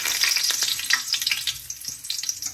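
Curry leaves crackle and pop busily in about 150 ml of hot oil as the base for a restaurant-style crab masala, a close, lively frying sound with rapid bursts.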